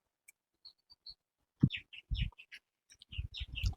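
A sparrow chirps in short, high, separate notes, sparse at first and then in quicker clusters, fairly close in an otherwise quiet outdoor setting.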